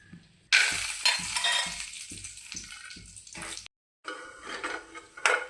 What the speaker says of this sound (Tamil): இப்போ நெய் ஊற்றிக்கலாம். முந்திரி பருப்பு திராட்சையை வறுத்துக்கலாம்.